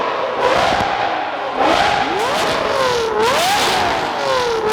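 A Lamborghini Murcielago's 6.5-liter V12 revs repeatedly in bursts, its pitch climbing and falling between throttle blips, loud and close with no talking.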